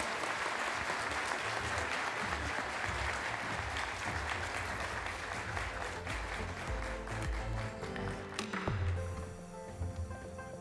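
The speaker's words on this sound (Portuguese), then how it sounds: "Aplausos, por favor, para o Dr. Lamana" An audience at a Brazilian notary and registry conference applauds a panel speaker; dense, sustained applause fills the room evenly for nearly the whole stretch, then tapers slightly near the end.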